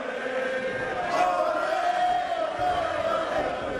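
A Spanish-speaking wrestling audience shouts together, a moderately loud crowd swell that rises in the middle with a few sustained vocal tones poking through the murmur.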